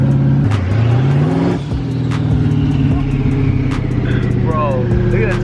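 Tuned BMW M3 drift car with a 700+ horsepower engine idles loudly up close and climbs through revs with a rough, harmonic drone, while people talk nearby.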